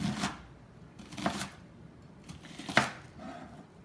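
Knife slicing through an onion on a cutting board, a few distinct quiet chops spaced about a second apart with soft rustling in between, close and alone without talk.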